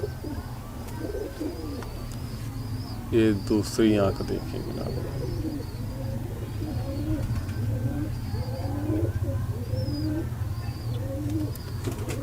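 Pigeons kept as breeding pairs, including a teddy pigeon with its hen, coo in soft, repeated low rolls, close and steady, while someone talks briefly over them.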